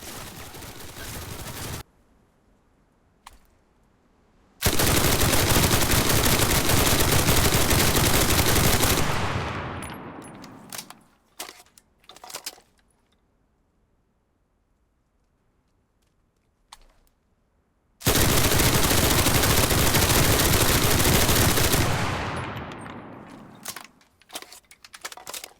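A Thompson M1928A1 submachine gun in Enlisted fires two long sustained full-auto bursts, each several seconds of loud continuous rattling, separated by a quiet stretch with a few scattered distant shots and clicks.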